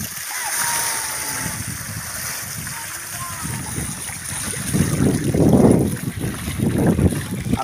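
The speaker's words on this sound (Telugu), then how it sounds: "నీళ్ళు విరుచుకుంటుంది" Water rushes through a channel in a village crop field, a steady wash with splashing surges that swell toward the end, while voices talk nearby.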